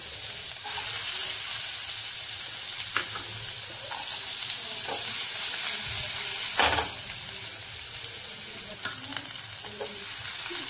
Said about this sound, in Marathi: मी फक्त नावाला जवळ असा कांदा टाकते